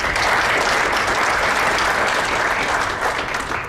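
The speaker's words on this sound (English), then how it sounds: "Give her a round of applause." Loud, dense round of applause from the audience at a Scott County Republican political forum, a continuous wash of many hands clapping close by that eases slightly toward the end.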